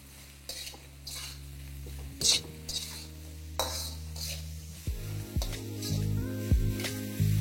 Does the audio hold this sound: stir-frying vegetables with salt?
yes